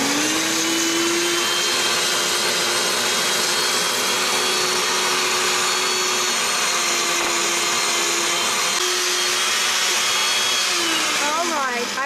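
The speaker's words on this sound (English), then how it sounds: "We're going to puree again because we don't want to have all those little specks of the chili." A blender purees homemade Mexican salsa with chili, a loud continuous motor whine that holds one steady pitch for about ten seconds, then winds down and changes near the end.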